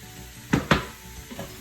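Chopped onion dropped onto seasoned ground turkey browning in an Instant Pot, giving two sharp sizzling bursts close by, then a quieter clatter and a fading hiss.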